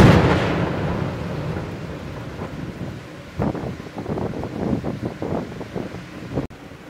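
Thunder rumbles during a heavy thunderstorm in Jelgava, Latvia: a loud low roll at the start fading into gusty wind and distant rumbles, with a sharp crack near the end.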